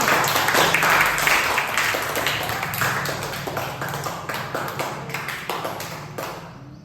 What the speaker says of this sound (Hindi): तो जोरदार तालियां बजाएंगे।